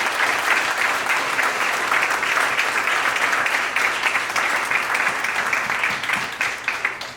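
Crowd at a UNDP Mission 1.5 launch event claps in sustained, dense applause for about seven seconds, steady throughout and thinning slightly at the very end.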